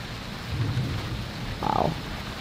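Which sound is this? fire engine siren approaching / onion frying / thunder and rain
thunder and rain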